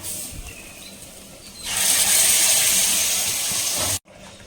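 Dried anchovy, mango and brinjal curry pours into a pot, a loud steady hissing rush over background sizzle lasting about two seconds before cutting off abruptly.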